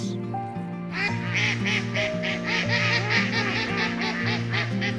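A flock of ducks in a video game quacks loudly in rapid, overlapping bursts, close and busy, over a steady low background hum.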